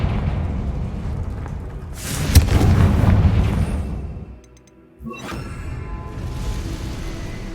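A Confringo fire spell from the video game Hogwarts Legacy bursts with a loud booming blast and rushing whoosh, swelling and rumbling for a couple of seconds amid a dense game soundscape, followed by a sharp magical crack.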